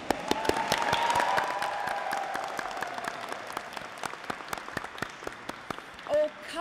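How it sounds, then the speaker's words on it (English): Graduation ceremony audience clapping and cheering, a dense burst of applause with scattered sharp individual claps that swells early and then thins out, with a brief voice near the end. "I wonder if you would like to practice that clapping and cheering now."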